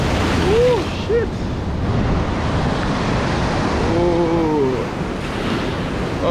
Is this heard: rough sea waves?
yes